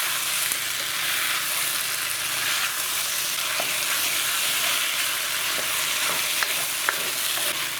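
Chicken and vegetables frying in a pan, a loud, steady close-up sizzle with occasional faint clicks from stirring and no speech.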